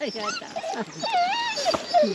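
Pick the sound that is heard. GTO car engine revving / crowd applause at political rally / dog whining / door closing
dog whining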